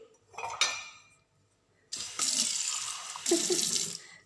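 Tap water runs in two loud gushing bursts for watering plants, preceded by a brief fainter splash, close and alone with no talking.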